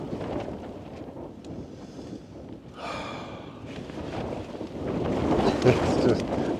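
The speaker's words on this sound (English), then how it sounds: "particularly with the wind coming from sort of this angle instead of that angle" Wind buffets and rushes against a small camping tent in a steady, rough roar that swells louder toward the end, with a breathy sound close to the microphone.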